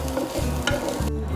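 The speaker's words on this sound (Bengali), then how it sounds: "এই কাজু কিশমিশের সঙ্গেই ভেজে নেব নারকেলটা।" Grated coconut frying with cashews and raisins in a pan for a sweet tiffin snack, a close steady sizzle broken by repeated scraping strokes of a spatula, with no voices.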